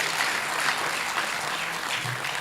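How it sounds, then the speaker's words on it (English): A school debate audience applauds loudly and steadily, a dense wash of close and distant clapping with no speech over it. "give them a big hand clap"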